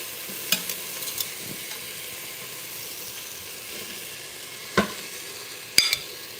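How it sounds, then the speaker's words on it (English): Stew beef sears in a pot on a pressure cooker's sauté function, a steady sizzling hiss running throughout with a few sharp clinks and scrapes, and no talking. "we're just searing all the stew meat before we add our vegetables"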